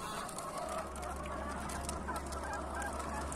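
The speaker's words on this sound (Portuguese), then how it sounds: "Olha o tanto de galinha." A flock of chickens on a broken-down truck clucking and murmuring together, a busy continuous chatter of hens with a low engine-like rumble underneath.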